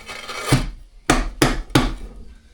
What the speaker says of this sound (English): So when I now try and put this trowel up again